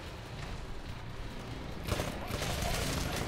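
Rapid automatic rifle fire in the shooter Titanfall during a multiplayer match, a dense crackling burst that swells louder toward the end, with game effects layered underneath.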